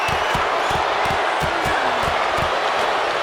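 A packed arena crowd in the WWE 2K26 wrestling video game cheers in a steady, dense roar. Rhythmic thumps run underneath, like fists landing or stomping.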